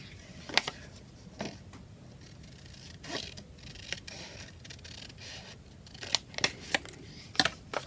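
Scissors cut printed paper from a collage sheet along a pencil line in a series of crisp, close snips, irregular at first and then quicker, with no talking.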